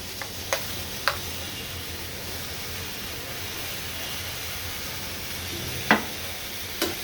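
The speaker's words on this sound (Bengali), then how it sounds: "এখন দিচ্ছি এখানে পেঁয়াজ আর বাদাম বাটা একসাথে করে আমি বেটে নিয়েছি" A paste of ground onion and nuts goes into a frying pan and settles into a soft, continuous low sizzle. A few sharp spoon clicks against the pan are scattered through it, with no talking.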